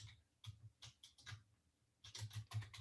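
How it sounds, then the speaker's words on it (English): Mechanical computer keyboard typed in bursts of rapid clicky keystrokes, quiet and close, pausing briefly before a louder flurry of keypresses. "Mechanical keyboard."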